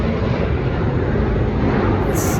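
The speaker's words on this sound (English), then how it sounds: "You can hear a plane taking off right now." Cargo plane taking off nearby, a steady loud broadband jet roar that holds constant throughout with no speech over it.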